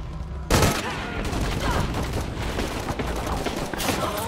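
Gunfire in the Shadow of the Tomb Raider video game erupts as a dense, continuous fusillade of rapid shots, loud and close, keeping up without a break for several seconds.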